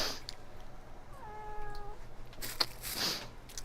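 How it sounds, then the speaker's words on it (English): A cat gives one drawn-out, wavering meow close by, followed by a few soft clicks and rustles in a quiet room. "This lovely kitty boo."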